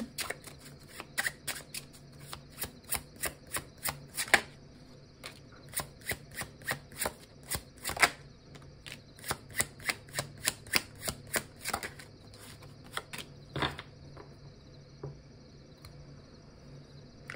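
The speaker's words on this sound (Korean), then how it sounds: "저의 메시지 카드 몇 장 뽑고 리딩 마치도록 할게요" Tarot message cards being shuffled and drawn: a long run of quick, crisp card flicks and riffles, close and fairly loud, in uneven bursts with brief pauses and no talking.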